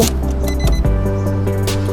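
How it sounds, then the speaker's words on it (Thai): A Nissan March engine cranking and catching, with a starter whir and a thump as it fires, then a loud steady idle hum close by. "เดี๋ยวน้องแนนสตาร์ทเครื่องให้ดู"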